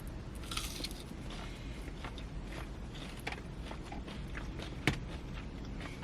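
Fried fish and chips from a Gordon Ramsay restaurant being eaten up close, with crisp crunchy bites and soft chewing repeating over a few seconds and no talk.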